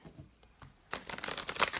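Tarot cards being shuffled close up, a soft riffling rustle that starts after a quiet pause and continues in quick flurries.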